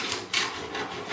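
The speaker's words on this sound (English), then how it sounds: "we're going to cut out our balancing wheel here. We got some 4-inch PVC pipe" Rasping saw strokes cut through 4-inch PVC pipe, with about three broad, scratchy passes at a steady rhythm, close and moderately loud with no talk.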